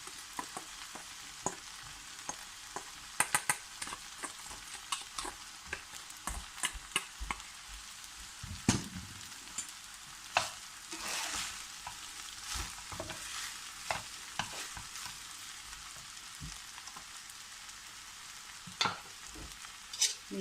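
Egg fried rice being stir-fried over a high flame, one cup of rice scraped and tossed in a hot pan with repeated clattering stirs over a steady sizzle, no talking.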